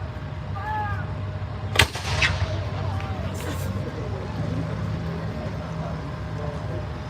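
A field artillery gun firing a shell at an outdoor tank weekend show, one sharp loud blast with a rolling echo, heard from a distance over crowd murmur and a faint whistle.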